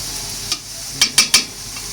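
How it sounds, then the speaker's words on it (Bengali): Chicken pieces being stirred into a pot of Bengali-style chicken bhuna khichuri, a faint background hiss broken by four short scraping strokes of the spoon, the last three coming in quick succession near the end. "মাংসগুলো এখন ভালো করে নেড়ে খিচুড়ির সাথে মিশিয়ে দিতে হবে"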